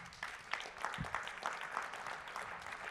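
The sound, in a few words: audience applause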